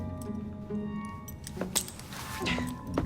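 Keys jangle and clink softly as they are handed over, a few light metallic rattles over a faint background with musical tones.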